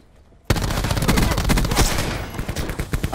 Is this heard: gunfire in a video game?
yes